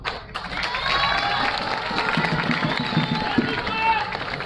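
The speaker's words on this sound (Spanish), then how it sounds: "recibamos un fuerte aplauso a quienes integran, a los invitados especiales que se encuentran aquí presentes" A crowd at an outdoor campaign rally in a Chalco community claps and cheers steadily for special guests, a busy, sustained roar of applause and voices with scattered shouts throughout.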